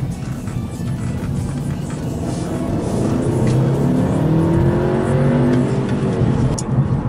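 A 2015 Audi A3 Quattro accelerates hard, its engine note rising steadily in pitch through the gears over a constant loud cabin and road roar, heard from inside the car.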